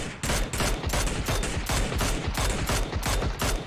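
Sustained rapid gunfire from PUBG, the battle royale shooter, rattles on without pause in tight repeating bursts, loud and close, with no voices over it.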